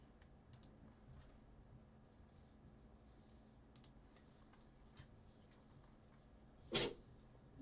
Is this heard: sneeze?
yes